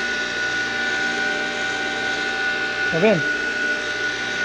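A water pump's electric motor, fitted with contact-point switching, hums steadily with a constant tonal whine throughout. A person speaks briefly partway through.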